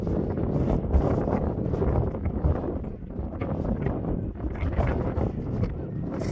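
Strong wind buffets the microphone on a wet, windy coastal walk toward Aberystwyth, a continuous loud roaring rumble with gusty surges throughout and no clear speech.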